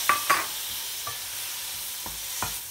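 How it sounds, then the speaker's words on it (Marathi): Tomatoes tipped into an onion and spice masala frying in a pan for spicy cabbage and green peas, giving a soft steady sizzle broken by a few clear scraping stirs and clinks, close and fairly quiet, with no talking. "आता मी इथे टॉमॅटो टाकणार आहे."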